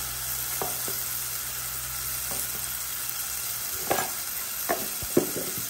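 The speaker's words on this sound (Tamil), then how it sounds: "இப்போ தக்காளி பழம் வதங்கி வந்துட்டு நாங்கள் இதுக்கு கொஞ்சமாக காஷ்மீர் மிளகாத்தூள் போடுவோம்." Tomatoes sautéing with Kashmiri chili powder in a pan, a steady soft sizzle with a few scraping stirs and light clinks near the end, no voices.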